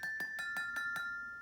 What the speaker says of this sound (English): high notes, which sound like this